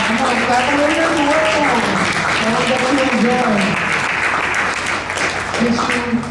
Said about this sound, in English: Come on, clap a little bit more for them.